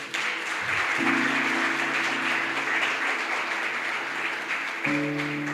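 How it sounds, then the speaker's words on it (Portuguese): A church congregation applauds in dense, sustained clapping that runs throughout, with steady sustained musical tones sounding underneath. "Vamos aplaudir Jesus pela vida do pastor dito aqui?"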